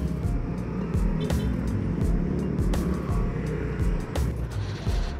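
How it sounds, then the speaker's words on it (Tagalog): Steady road traffic in a congested street: a continuous low engine rumble with vehicles passing close by and brief sharper noises now and then, with no voices. "Traffic na naman."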